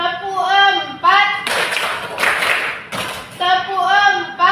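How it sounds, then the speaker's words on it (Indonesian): Bursts of hand clapping between short spoken phrases, a few quick claps at a time, close and fairly loud. "Tepuk 1, tepuk 2, tepuk 3,"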